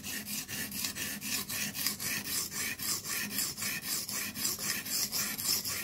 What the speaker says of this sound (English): I keep sharpening super steels and they take forever to get the reprofile done.